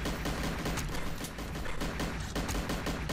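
Rapid gunfire from the GoldenEye video game, a dense, continuous burst of loud shots and explosions filling the whole stretch without pause.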